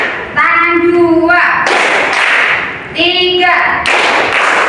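A classroom of pupils claps hands in a counted rhythm, bursts of claps alternating with a teacher's voice calling out the count, loud and close.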